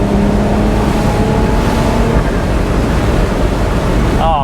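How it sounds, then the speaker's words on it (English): A 2020 Porsche 911 Carrera S Cabriolet with a 7-speed manual downshifts and accelerates, a loud, constant engine roar under rushing wind noise, with revs climbing sharply at the very end. "you might just want to kick it down a couple gears and go have some fun"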